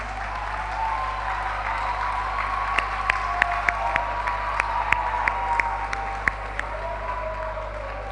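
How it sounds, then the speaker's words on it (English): Steady applause from an audience at an education forum, a dense wash of clapping with a few sharper claps standing out, sustained at even loudness throughout. "So with a round of applause, can we invite Mr."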